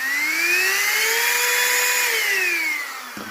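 A cordless handheld vacuum cleaner runs close by, a steady high whine that rises slightly in pitch, holds, then winds down as it is switched off.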